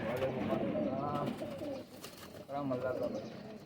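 Rampuri pigeons coo on a rooftop in soft, throaty bursts, two clear rounds of cooing with a brief lull between, close and moderately quiet.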